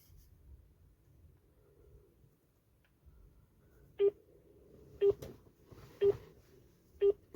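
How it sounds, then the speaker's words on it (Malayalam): A phone call's ringback tone plays over speakerphone late at night while waiting for a room-booking line to answer: four short, evenly spaced beeps about a second apart, fairly faint against a quiet background hum. "രാത്രി പത്ത് നാൽപ്പതായി കേട്ടോ റിങ് പോകുന്നുണ്ട്"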